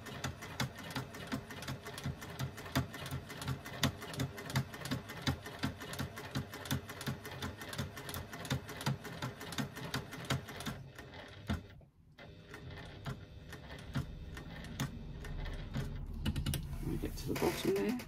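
A sewing machine stitches a bag's slip pocket at about a 3 1/2 stitch length, with a fast, even mechanical clatter running steadily. It stops abruptly partway through, then resumes more faintly with a soft rustle of fabric.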